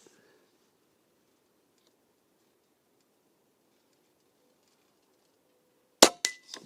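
An AR15 rifle fitted with a Buck Rail P-Rod conversion kit lets off a few sharp, loud shots in quick succession, right at the end of a long, quiet stretch of faint background hum.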